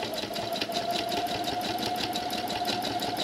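A sewing machine stitches steadily during free motion quilting, a close continuous whirring hum with rapid rhythmic needle clatter throughout.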